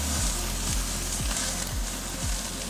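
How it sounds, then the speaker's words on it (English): A steak sears on a grill with a steady, loud sizzle and crackle, punctuated by several low thumps spaced roughly half a second apart, with no one talking. "we can see here we got a good initial sear"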